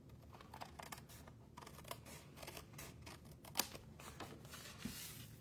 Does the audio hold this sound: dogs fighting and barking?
no